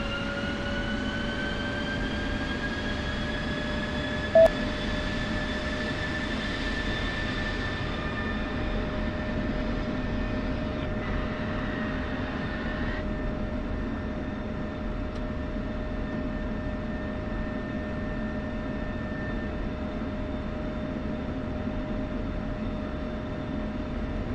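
A jet's aircraft engine runs in the Weasels Over Syria combat flight game: a steady, loud, even drone with sustained whining tones that shift slightly partway through, with no voices.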